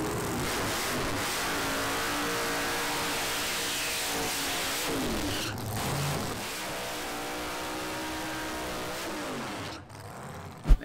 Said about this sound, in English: So when I roll through, I like to give her the wop, wop, wop, and then settle it into the burnout.